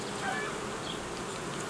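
Honeybees at an apiary, with nucleus colonies raising queens, fill the air with a steady, dense buzzing drone, close and continuous, with occasional individual bees passing near.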